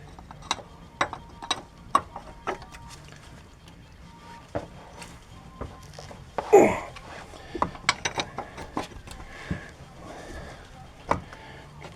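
A ratchet clicks in short, crisp bursts as it loosens a rusty 18 mm nut on the upper ball joint of a 2007 Chevrolet Silverado or Avalanche. A louder scrape or creak breaks in midway, and the sound is close.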